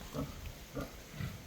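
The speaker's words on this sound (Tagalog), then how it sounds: "Yung native pig natin guys, oh." Native pig on a farm giving three short, low grunts in a row, close and fairly quiet.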